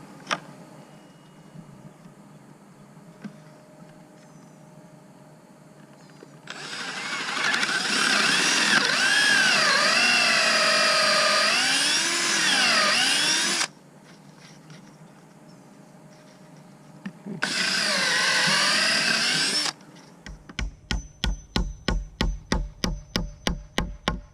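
A power drill whines through two long bursts, pitch wavering under load, while building a chicken tractor, followed by a quick series of sharp rhythmic mechanical taps.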